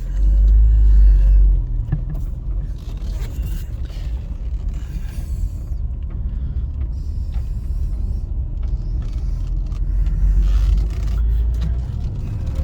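A car on a short test drive, heard from inside the cabin as a steady low rumble with faint creaks and mechanical rattles, louder at the start and again near the end, with no talking.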